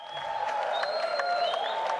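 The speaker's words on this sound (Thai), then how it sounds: "เสียงปรบมือเนี่ยเป็นเสียงปรบมือของชาวจีนนะครับ" Steady applause from Chinese spectators at a Muay Thai versus kung fu fight, dense continuous clapping at moderate volume with a faint background hum.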